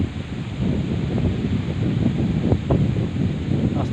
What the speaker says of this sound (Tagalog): Lakas ng hangin dito, sa baba walang hangin-hangin.